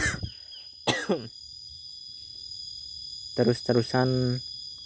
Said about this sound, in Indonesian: maaf teman-teman ya, lagi batuk